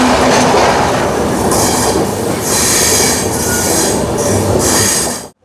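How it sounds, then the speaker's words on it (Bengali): The Darjeeling Mail, a 22-coach train between Sealdah and Haldibari, rumbles loudly along the rails with squealing wheels and rhythmic clatter, heard close from aboard until the sound cuts off abruptly. "মোট 22টা বগি নিয়ে এই ট্রেন পাড়ি দেয় শিয়ালদা থেকে হলদিবাড়ির মধ্যে"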